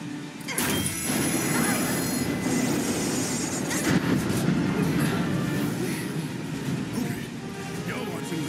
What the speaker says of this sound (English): Need to slow the train down.